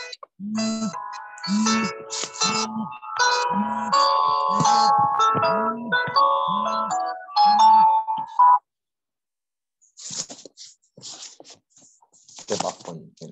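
Mobile phone alarm ringing in a lab, a repeating electronic melody of bright tones with a low beat pulsing under each note, loud and close, then cut off, followed by a few faint clicks and shuffling.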